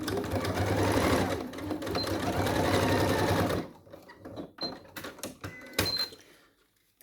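A sewing machine runs a straight row of stitching on a skirt, a steady close whir for several seconds before stopping, followed by scattered clicks and handling noises of fabric and machine parts.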